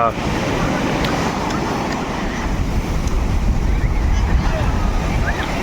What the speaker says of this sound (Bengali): আহা, অপূর্ব অপূর্ব হাওয়া দিচ্ছে।